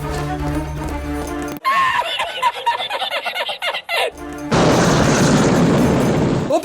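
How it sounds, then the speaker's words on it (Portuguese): Explosion in a low-budget Death Wish film scene where Charles Bronson blows up bandits seated at a table, a loud sustained blast roaring in after a burst of frantic, choppy movie sound. "Charles Bronson explode uns bandidos e dá pra ver bonecos no lugar dos atores sentados na mesa"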